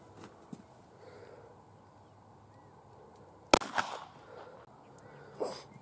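One sharp, loud revolver shot from a Ruger LCR fired at a target at five yards with wax-filled hollow-base wadcutter loads, a single crack against a quiet outdoor background, followed by faint rustling and a few small knocks.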